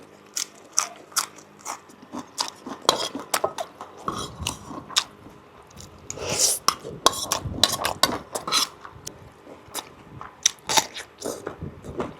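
Close, loud crunching bites and chewing of very crispy food, with rapid irregular crackles coming in bursts over about twelve seconds and no talking.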